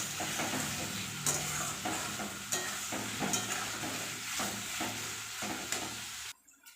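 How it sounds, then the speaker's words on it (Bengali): Grated ginger, garlic and onion frying with potatoes in a pan, a dense steady sizzle broken by repeated scraping stirs of a spatula, ending abruptly with no voices. "আদা রসুন পেঁয়াজ আদা রসুন সব একসাথে আলুর সাথেই ভেজে নেব ভালো করে"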